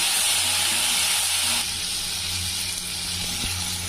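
Small tomatoes and a little coconut sauté in a pan for country chicken curry, a loud, steady hiss and sizzle up close with faint low hum underneath and no talking.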